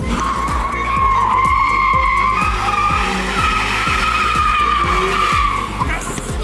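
Coyote V8 in a single-cab 2023 Ford F-150 doing a burnout, with loud continuous tire squeal and rhythmic pulsing engine roar, close up, while someone talks over it.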